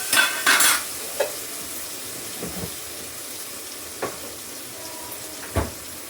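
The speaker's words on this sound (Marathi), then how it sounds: "हे दोन्ही अगदी मस्त तेलामध्ये चांगला नरम होईपर्यंत टमाटा आणि कोथिंबीर छान परतते" Tomato and coriander soften in oil over a low, steady sizzle, marked by a few sharp utensil clinks and scrapes early on and scattered stirring knocks after.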